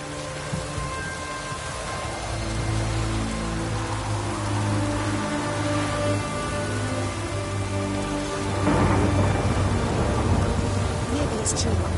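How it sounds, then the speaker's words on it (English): A heavy downpour in The Witcher 3: Hearts of Stone pours steadily, mixed with a low droning background, and the rain swells louder near the end. "What a downpour."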